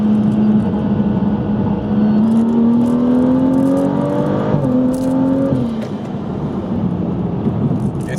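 A tuned BMW 435i Stage 2 pulls hard in third gear from inside the cabin, its engine drone rising steadily in pitch, then dropping briefly at a shift before climbing again, loud and continuous.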